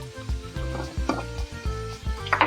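Half a spoon of asafoetida drops into hot oil for a capsicum and potato bhaji, setting off a loud, close sizzle with bursts of crackling and faint utensil scrapes underneath.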